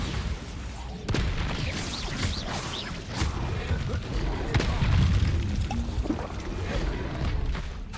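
Bombarda explosion spell in the video game Hogwarts Legacy, heard within dense, continuous battle sound: deep booms and crashing rumbles over a constant loud bed, with no clear break.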